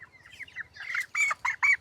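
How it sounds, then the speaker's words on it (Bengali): Broiler chickens cluck in a raised slatted poultry shed, with soft scattered calls building to several loud, close, short clucks in quick succession. "এই যে মুরগিগুলো এখন আনুমানিক কতটুকু ওজন হয়েছে?"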